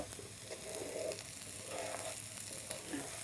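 Rice sizzles softly in a pan as it is fried for chicken achari khichuri, a quiet steady crackle with occasional stirring scrapes and no voices.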